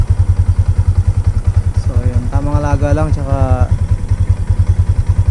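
A four-year-old motorcycle's engine idles nearby during an oil change, a steady rapid low thumping throughout, with someone talking briefly over it.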